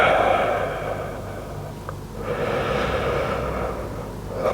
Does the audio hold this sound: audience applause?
no